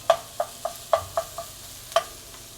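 Onions and garlic sizzle in a pan as a spoon stirs them, giving a series of crisp, evenly spaced scraping taps close by over a faint frying hiss, with no talking.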